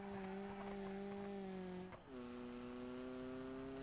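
A turbocharged car that makes little boost, fitted with a massive rear wing, drives past at a casual car meet. Its steady, droning engine note drops in pitch midway as it goes by, at moderate distance with no voices.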